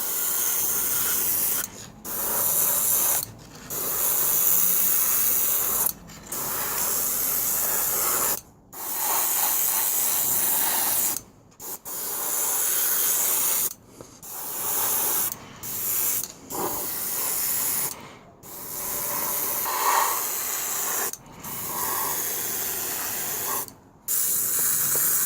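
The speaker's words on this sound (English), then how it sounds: "I have my airbrush quite low for this one," An airbrush at about 20 psi sprays base coat paint in repeated hissing bursts of several seconds each, separated by short silent gaps, fairly close and with no voices.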